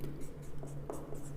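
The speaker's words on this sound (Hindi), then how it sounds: "चलो लिख देता हूँ थोड़ा सा" A pen scratches on paper in short strokes beneath a steady low hum, faint and close, with small pauses between strokes and no talk heard.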